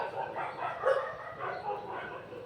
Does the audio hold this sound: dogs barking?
yes